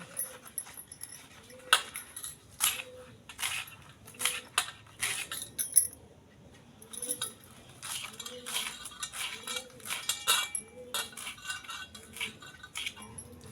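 Colocasia (alu) leaves being finely chopped with a knife on a board, a steady run of close, crisp chopping strokes in quick bursts with short pauses.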